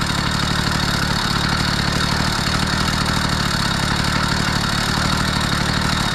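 A Kent Sea Change 80cc motorized bicycle engine running steadily at part throttle, loud and close, with a continuous buzzing, rattly drone that holds throughout.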